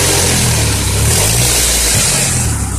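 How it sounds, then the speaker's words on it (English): The 2.3 liter four-cylinder engine of a 1995 Ford Ranger XLT is revved a little. The idle climbs into a brief, smooth rise in pitch and then settles, all close and loud, with no voices. "Rev it up a tiny bit."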